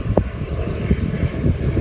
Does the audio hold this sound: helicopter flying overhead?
yes